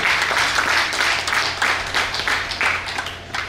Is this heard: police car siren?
no